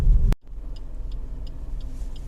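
Car driving at night through dense, foggy forest: after a sharp thump, a low steady engine rumble from inside the vehicle carries on, with faint regular ticking above it.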